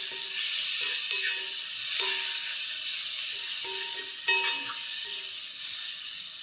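Onion sizzles in a pan as the base for pasta bolognese, a steady frying hiss with soft crackles and an occasional stir, close and fairly quiet with no talking.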